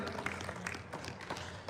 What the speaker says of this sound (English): Please give a big round of applause to Janab Mufeez Jidda Sahib